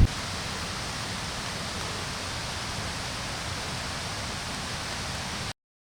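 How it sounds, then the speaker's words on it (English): A waterfall on the Overland Track rages after a night of heavy rain, a dense, constant broadband roar that is steady and unbroken until it cuts off near the end, with no voices. "You can hear the waterfall in the background raging on"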